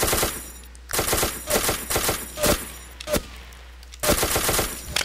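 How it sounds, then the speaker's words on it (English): Bursts of rifle fire in the Ace of Spades video game, several rapid volleys separated by short pauses, loud and close, with scattered single shots between them. "Rifleman's shooting at me."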